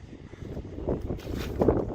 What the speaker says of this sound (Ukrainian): Я зараз десь знайду місце, щоб не було вітру.